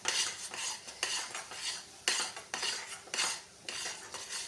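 A spoon works through semolina sheera with dry fruits and cardamom powder in a pan, a series of quiet scraping stirs and metallic taps in an uneven rhythm, close and alone.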